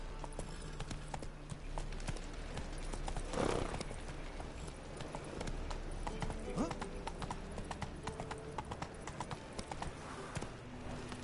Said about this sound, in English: Not so fast, Roach. Faster